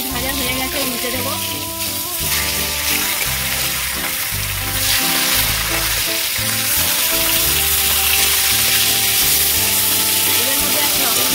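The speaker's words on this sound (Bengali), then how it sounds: "মাছ এক পিঠ ভাজা হয়ে গেছে, উল্টে দেবো।" Turned fish pieces frying in hot salted oil for a fish kalia, giving a loud, continuous sizzle that swells slightly louder toward the end, with some low background hum underneath.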